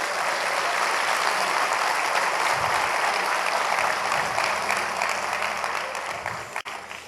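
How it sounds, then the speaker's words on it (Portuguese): A church congregation claps for Jesus in a dense, steady round of applause that lasts several seconds and then thins out toward the end. "ele então vai dar salva de palmas para Jesus"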